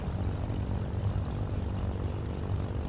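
Engine of a Cessna 310R twin-engine aircraft running steadily just after start at about 1000 rpm, a loud, close, even propeller drone with a low throbbing pulse and no voices.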